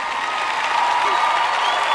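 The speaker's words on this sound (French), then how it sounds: "Vous avez applaudi, c'est bien." Audience applause at a Joyce Meyer teaching session: a dense, steady wash of many hands clapping at an even level through the whole two seconds.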